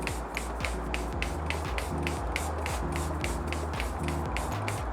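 A small handheld water spray bottle pumped repeatedly in a quick regular rhythm of short misty spritzes, close and clear, over a steady background with light music.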